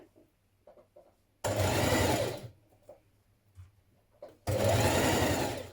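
A sewing machine whirs through two steady bursts of stitching along dress seams, each running about a second or more, close and loud, with quiet handling clicks of fabric in between.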